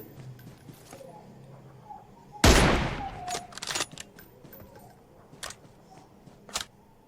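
Gunfire in the mobile battle-royale game PUBG Mobile: a loud, sharp burst of shots, then scattered quieter cracks and clicks at irregular intervals over a low background hum.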